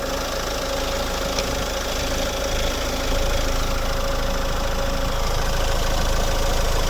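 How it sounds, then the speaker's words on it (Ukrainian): A 2015 Peugeot 308 SW 1.6 HDi diesel engine idles steadily and evenly with the hood open, a continuous close mechanical hum with a faint vibrating knock and no voices. "Ну повірте, наскільки тихо працює цей двигун"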